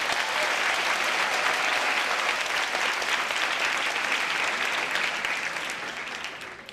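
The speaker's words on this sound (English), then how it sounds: "please give another big round of applause to both Khalil and Joseph." A large audience gives a long, dense round of applause at a university talk, steady and loud for several seconds before easing off slightly at the end, with no speech over it.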